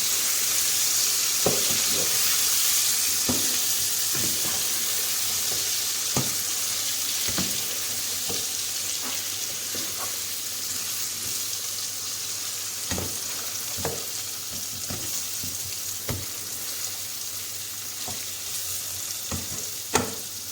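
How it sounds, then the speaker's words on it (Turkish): Beef liver fries on high heat in hot oil, a constant loud sizzle with repeated scraping clicks and knocks as it is stirred in the pan, close and without talk. "Şimdi yaklaşık 30 saniye geçtiğinden dolayı ciğerlerimizi karıştırıyoruz."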